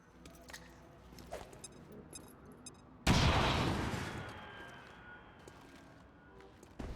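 A frag grenade exploding in XCOM 2, a sudden loud boom after a few quiet clicks, followed by a long rumbling decay with debris settling.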